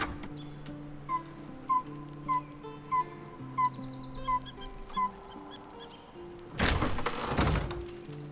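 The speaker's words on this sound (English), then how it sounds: "Now we hear the crickets and the birds." Crickets chirp in a steady rhythm with soft bird calls, a calm night ambience with regular repeated trills, then a short burst of broadband rustling noise near the end.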